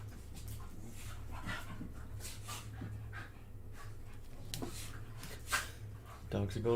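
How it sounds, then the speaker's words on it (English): Dogs pant and whimper restlessly at a moderate distance with a few sharp yips, over a low steady hum, while a person talks intermittently. "Dogs are going wild again."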